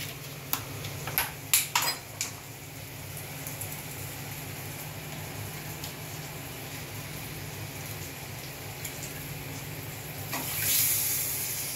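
Water runs steadily from a tap into a kitchen mixer jar holding tomato paste, a continuous hiss and splash after a few sharp clinks, moderately quiet, with no talking.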